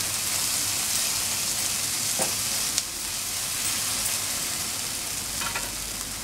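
Spices and garam masala sizzle steadily in a hot pan for drumstick amti, a loud continuous frying hiss with a few light stirring scrapes and clicks, and no talk.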